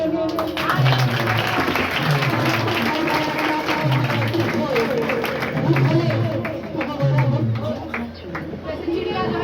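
A church congregation claps hands together in rhythmic bursts, with a speaking voice and crowd murmur running over the clapping throughout.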